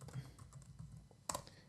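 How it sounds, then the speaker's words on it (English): Quiet typing on a computer keyboard, a short run of soft, close key taps with one sharper clack near the end, alone without talk. "I'm going to type user input."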